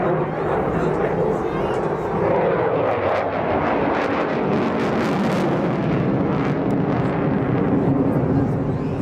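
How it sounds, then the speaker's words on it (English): Fighter jet engines roar at an airshow, a loud, rough, broadband blast that swells and rumbles continuously, with a commentator's voice over a public address system talking through it. "Engines are lit. You are looking at the finest multi-role fighter"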